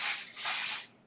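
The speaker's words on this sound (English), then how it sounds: "I love it when you lift up the hair and then spray it." Perfume mist sprayed onto lifted hair in two sustained, close hissing bursts of nearly a second, then trailing off into quiet.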